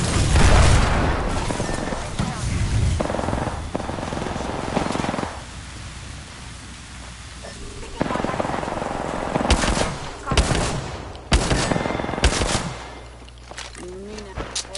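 Grenade blasts and gunfire in the video game Apex Legends, with loud booming bursts and rattling shots over a rumbling background, heavy at the start and returning in sharp bursts later.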